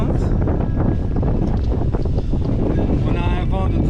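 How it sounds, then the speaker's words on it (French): The Sea Pearl sailboat is under sail between Guadeloupe and Antigua in an 18-knot crosswind, with loud, constant wind buffeting, rushing water and hull noise close by, and a voice speaking over it. "On a un vent de travers de 18 nœuds."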